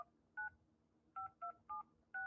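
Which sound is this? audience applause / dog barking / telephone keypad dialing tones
telephone keypad dialing tones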